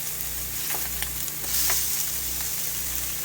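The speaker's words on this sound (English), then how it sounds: "I flipped the sausage. Let me go ahead and turn over the fish" Cutthroat trout and sausage sizzling in a frying pan inside a trailer, a steady close hiss with a few short scraping ticks as the food is turned and a brief louder flare of frying.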